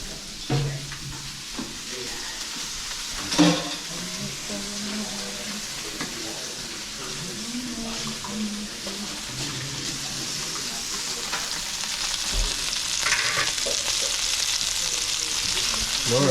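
Chorizo sizzles in a pan with a steady frying hiss, scattered pops and a few clanks of utensils, the sizzle building slightly over the stretch and no one speaking.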